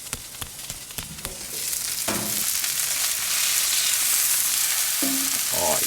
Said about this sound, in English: we better go and check on those burgers and give them a flip